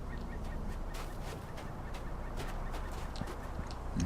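Chickens clucking in the video game LOTRO, scattered soft clucks and short calls over a low steady game ambience with no talking.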